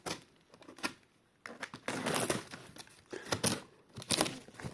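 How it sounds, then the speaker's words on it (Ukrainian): Crackling, crinkling packing tape and parcel packaging noises come in irregular bursts as the tape is cut, with sharp tearing and rustling, close by and fairly quiet. "Разрезаем скотч."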